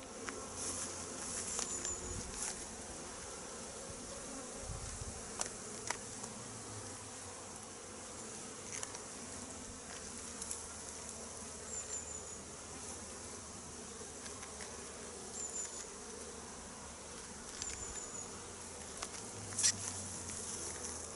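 Bees buzz steadily around beehives prepared for winter, a faint continuous drone outdoors with occasional louder passes near the listener.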